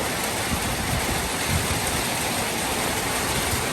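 Rain pours steadily at a rural village, a dense, even hiss of drops on surfaces that holds a constant moderate loudness throughout, with no voices.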